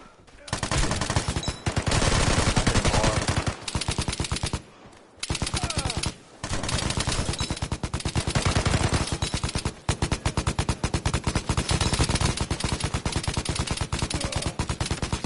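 Sustained automatic gunfire in Vigor, an online survival shooter, with rapid bursts of machine-gun fire running almost the whole time, broken by a few short pauses, loud and close.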